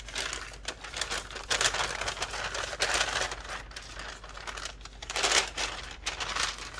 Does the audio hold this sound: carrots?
no